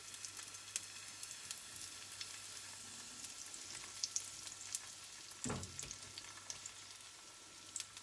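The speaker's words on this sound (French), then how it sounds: "je baisse le feu, je mets un petit peu d'huile. Je mets la pâte." Crêpe batter sizzling softly in a lightly oiled pan over lowered heat, a steady faint crackle with one brief scrape or pour near the middle, no talking.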